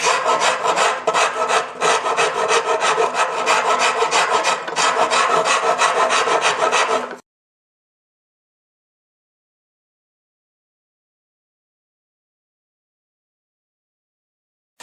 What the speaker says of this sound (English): I'm taking a very coarse rasp first.